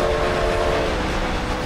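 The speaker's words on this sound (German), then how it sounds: "Weil der Zug so laut ist, vergesse ich immer zu schalten, weil ich den Motor nicht höre." A train rumbles past during a race in the video game Forza Horizon 2, a steady loud roar with a sustained horn-like tone held throughout, dense and close with no pauses.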